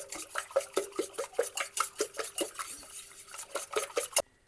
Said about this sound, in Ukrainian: Збиваю яйця.